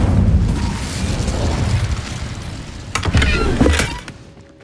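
An Incendio fire spell bursts out in the video game Hogwarts Legacy with a loud whooshing boom and rumble, followed by crackling flame bursts that fade away.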